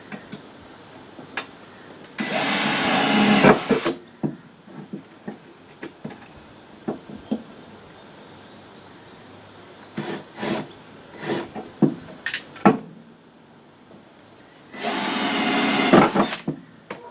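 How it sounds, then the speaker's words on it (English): Two loud bursts of a power drill whirring, each a second or two long, drilling bolt holes during repairs on a Triumph 2500 Mk I car, with scattered clunks and small handling noises between them. "let's drill a couple of holes"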